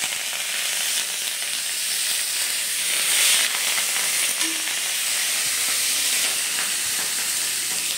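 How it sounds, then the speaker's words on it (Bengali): Curry leaves crackle and hiss in hot oil left from frying peanuts, a close, continuous sizzle that holds steady for several seconds with no voices. "এবার আমি এই তেলের মধ্যে দিয়ে দেবো কারি পাতা।"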